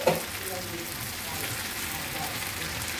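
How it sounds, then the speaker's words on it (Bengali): Boiled vegetables drop into hot oil in a wok, a brief burst at the start settling into a steady, soft sizzling crackle that continues throughout. "আর আমি এখন সেদ্ধ করা সবজিগুলো এখন এই তেলের মধ্যে দিয়ে দিচ্ছি।"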